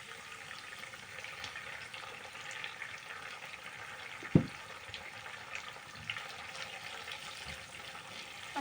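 Turkish pasta salad being stirred with soy sauce in a pan, a steady soft sizzle and scraping with one sharp knock of the utensil midway, no voices.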